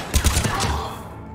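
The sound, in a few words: gunfire in the Mass Effect 3 video game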